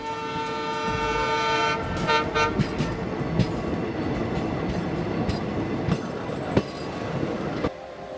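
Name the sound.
train running on rails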